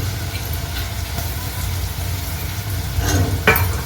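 Crushed garlic frying in a pan for Telugu atukula chuduva, a steady close sizzle with soft stirring scrapes and a brief sharper clatter near the end.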